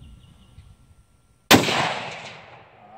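A single sharp, loud rifle shot from a .243 Winchester fired with handloaded ammunition, a sudden crack after near silence, followed by a long decaying echo.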